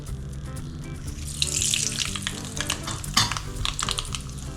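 Mustard seeds sizzling in a ladle of hot oil while tempering spices for a Telangana-style tamarind pachi pulusu, with a bright crackle that swells and spatters, a few sharp pops and some stirring.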